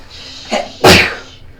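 One loud, close sneeze with a short breathy intake just before it, then quiet.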